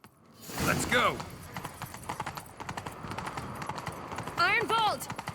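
Rapid hoofbeats clatter steadily as a horse gallops in The Witcher III: Wild Hunt, with a horse's whinny near the start and another near the end.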